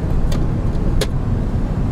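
Cabin drone of a Lada Granta with an automatic gearbox and about 8,000 km on it, driving with the air conditioning on; a steady, loud low rumble with a couple of brief light rattles.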